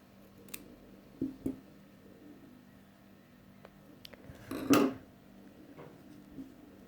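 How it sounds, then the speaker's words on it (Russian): Scissors cutting a piece of fabric for a sewn brush case, a few quiet, sparse snips and clicks in a still room, with one louder crunching cut near the end. "Просто вот такой вот кусочек обрезаю."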